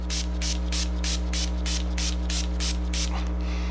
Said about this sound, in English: to lock everything in, I'm using the NYX Matte Finish Setting Spray